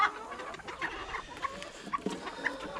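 Chickens on a small Tennessee homestead give soft, scattered clucks, faint and fairly distant, with no talking.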